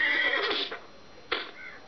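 A horse neighs in the Survival Craft video game, a short whinny with a second brief cry after a pause, fairly close and alone without talk.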